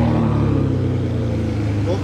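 Ferrari 599 engine running steadily nearby, a low continuous rumble with a strong harmonic drone and no obvious revving, under faint background chatter.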